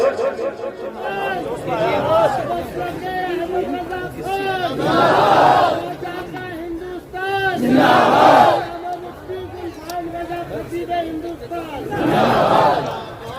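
A large religious gathering at an Islamic sermon bursts into loud collective slogan shouting three times, each surge rising over a steady backdrop of crowd voices and a speaker's amplified talk.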